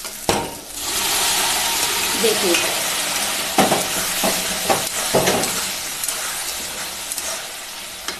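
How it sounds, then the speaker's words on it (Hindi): Boiled kabuli chickpeas get stirred into sizzling fried masala in a pan for a paneer and makhana sabji, with a steady hiss of frying and several scraping spoon strokes; a voice speaks briefly. "अब उसमें उबले हुए काबली चना हम मिलाने जा रहे हैं।"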